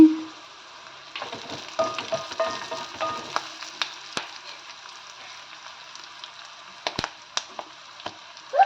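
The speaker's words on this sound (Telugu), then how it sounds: "ఆయిల్ వేడెక్కిందండి, పచ్చిమిర్చి వేసుకోవాలి. ఆనియన్స్ వేసుకోవాలి. కరివేపాకు వేసుకోవాలి." Green chillies, onions and curry leaves sizzle in hot oil, a steady close hiss with scattered crackles and spatula clicks, busier at first and settling into a quieter fry.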